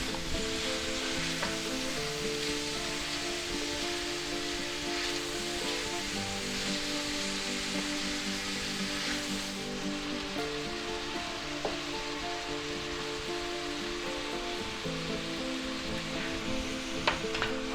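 Thinly sliced carrots sizzle and fry steadily in a hot pan for chicken chop suey, a continuous close hiss with faint stirring scrapes and no talking.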